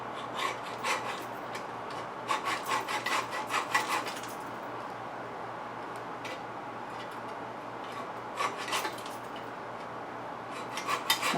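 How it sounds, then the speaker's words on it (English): Saw cutting through a rough weld on a milling machine's overarm, heard as fairly quiet rasping back-and-forth strokes that come in rhythmic bursts with pauses between. "I'm probably sawing through not just that weld"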